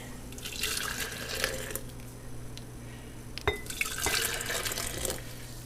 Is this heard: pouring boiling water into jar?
yes